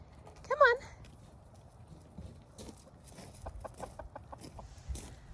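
Farm chickens cluck and call inside a coop, one sharp squawk up front then softer scattered clucks and shuffling, with a person talking faintly.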